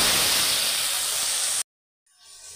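Ground spice paste dropped into hot oil tempered with cardamom, cinnamon and cloves for chhanar kalia bursts into a loud, close, steady hissing sizzle, cuts off abruptly, then returns as a quieter sizzle.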